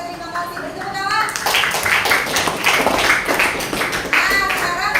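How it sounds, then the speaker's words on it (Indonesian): A group of schoolteachers in a classroom workshop clapping hands together, a burst of brisk claps starting after a second and continuing under loud overlapping chatter and voices. "Beri tepuk tangan."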